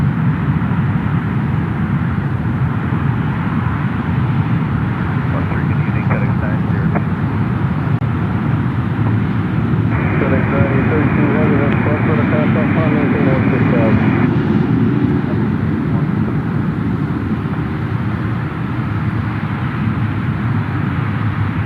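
A FedEx airplane banks into a turn in flight near Memphis International Airport, a low continuous engine drone running throughout beneath someone talking and a brief radio-like tone in the middle.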